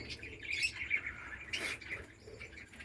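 Budgies in a breeding colony chirp and twitter in quick overlapping bursts, moderately near over a low background hum, with one sharper squawk and no voices.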